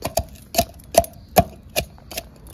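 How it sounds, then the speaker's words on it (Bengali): Ginger and garlic being crushed by hand, heard as seven sharp, evenly spaced pounding knocks about every 0.4 seconds, close and fairly loud with no talking. "এখানে আদা আর রসুন নিয়ে নিয়েছি, আমি থেতো করে নেবো"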